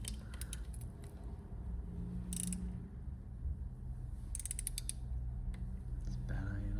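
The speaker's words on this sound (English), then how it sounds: "I just had to go over to the massive wrench in order to loosen it off" A stubborn bolt on a Ducati creaks loudly as a massive wrench breaks it loose, with short bursts of grinding creak over a low steady background hum.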